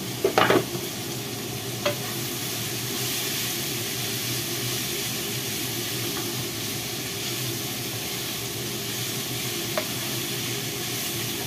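Vegetables for vegetarian lumpia stir-fry in oil in a pan, giving a steady close sizzle and hiss with a few sharp clinks of a utensil near the start.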